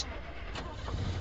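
A car engine being cranked with the starter held, a close, steady churning whir lasting just over a second without catching, with no speech.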